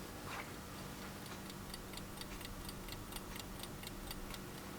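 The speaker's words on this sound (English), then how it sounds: "it's got a good strong tick to it" A small German-made mechanical alarm clock held close, its strong, regular tick-tock clicking steadily at an even pace over a quiet background hum.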